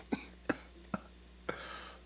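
Four short, dry coughs come at uneven intervals, close by and fairly quiet, with a faint background hum between them.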